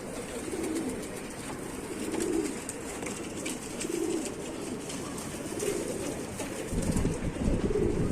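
Pigeons coo in a loft in repeated low, throaty phrases every second or two, with a steady background hum and faint higher chirps; no talking.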